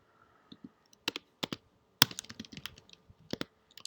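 Computer keyboard typing while writing Django code: sparse, close key clicks in short irregular bursts with brief pauses between, quiet and alone.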